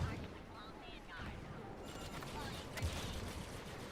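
Blaster fire from a Star Wars Battlefront II multiplayer match, a dense run of sharp shots and bursts crackling throughout under a busy battle din, with a person talking over it.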